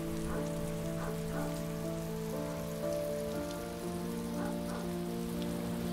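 Rain falls in the video game Heavy Rain, a continuous soft patter on surfaces beneath sustained musical tones, steady for the whole stretch.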